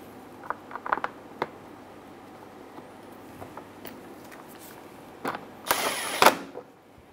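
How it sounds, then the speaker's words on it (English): A power drill bores through the bumper of a 2007-2017 Ford Expedition to mount a license plate bracket, first a few scattered clicks and taps, then a short loud burst of high whirring near the end, close by. "Line the holes up with the plate bracket on the bumper and drill through your bumper."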